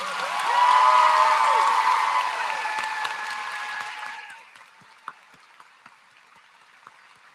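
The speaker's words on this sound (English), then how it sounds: "Let's give another round of applause for our salutatorian and valedictorian." Graduation audience at the 2026 Weiss High School ceremony applauds the salutatorian and valedictorian, with loud clapping mixed with whoops and cheers that swell early, hold for a few seconds, then drop off, leaving a few scattered claps.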